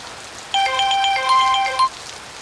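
An electronic phone ringtone plays a bright, repeating melodic pattern for about a second and a half, clear and fairly close, with no talking.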